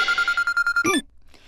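A toy telephone in a children's cooking show gives a repeated electronic ring, a steady trill in short regular pulses that stops abruptly and is followed by a brief quiet.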